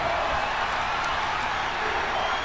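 Simulated arena crowd from a wrestling video game, a steady dense roar of many voices with no clear peaks, loud and continuous.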